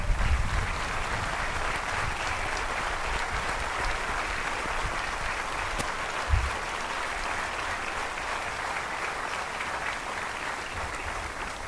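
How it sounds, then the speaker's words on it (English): An audience at an airmen's graduation ceremony gives a sustained round of applause, dense steady clapping lasting throughout, with a few louder claps standing out. "please stand for a round of applause"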